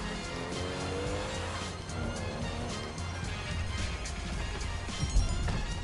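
A car drives hard in GTA Online with engine roar and brief tire squeals as it skids, under a steady game soundtrack.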